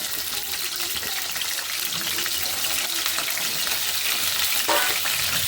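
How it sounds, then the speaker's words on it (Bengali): Potatoes fry in a pan for chicken curry, a steady close sizzle and crackle of hot oil running throughout with occasional stirring, no talking. "এই যে আমি হচ্ছে দুপুরের জন্য রান্না করতেছি মুরগি তার জন্য আলুটা ভেজে নিচ্ছি"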